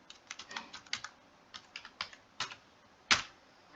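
Fingers type on a computer keyboard on a login page, a quick series of light clicking keystrokes in irregular bursts ending with one sharper, heavier key press, close and quiet with no talking.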